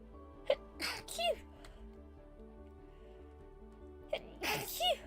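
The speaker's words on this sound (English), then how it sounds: "I'm going to sneeze in a second" Two sneezes, each a sharp nasal burst, spaced a few seconds apart at close range over a quiet room background, with a short intake of breath before each.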